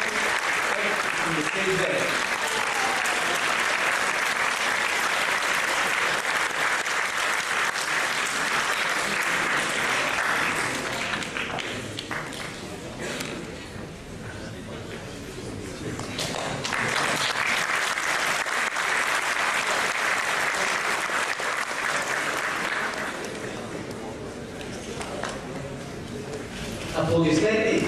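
Audience applause at a university graduation celebration, long stretches of dense clapping that dip in the middle with a brief spoken announcement, then swell again before easing off.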